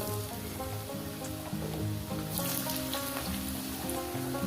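Potatoes fry in hot oil with small dried red chillies, making a dense, continuous loud sizzle with a steady tonal background running underneath.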